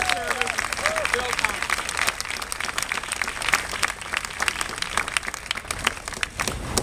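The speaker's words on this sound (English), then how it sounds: "Let's once again applaud his integrity and his courage and his service." An audience claps at a political speech where a mayoral candidate concedes, steady dense applause filling the space for several seconds, with a brief voice heard near the start.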